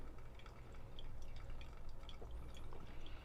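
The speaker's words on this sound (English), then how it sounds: "I'm going to put the rest of water in." Hot water being poured over ground coffee in a pour-over brewer, a soft steady trickle and drip of liquid running on for a few seconds, quiet and close with no talking.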